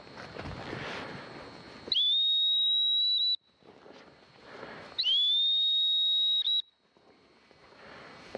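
A gun dog training whistle sounds two long, steady, piercing blasts a few seconds apart, clear and close, separated by quiet outdoor background.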